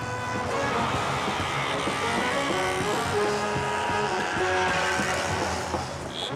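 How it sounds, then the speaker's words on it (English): Dense traffic noise of thousands of small motorbike engines buzzing and droning together in a city in Benin, a continuous loud roar with no clear pauses. "the deafening noise of thousands of small motorbikes throughout the city"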